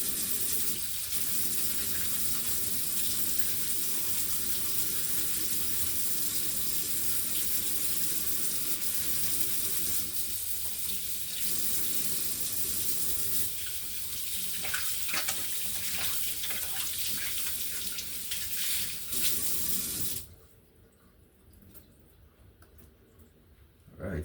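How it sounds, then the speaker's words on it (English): Hands washed with soap under a running kitchen tap, a steady close water rush for about twenty seconds before it stops, leaving quiet room sound. "So I'll make sure I wash my hand properly, alright? So I have my soap, and I have my wash sponge."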